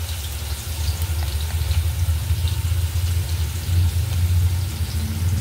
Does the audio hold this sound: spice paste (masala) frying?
yes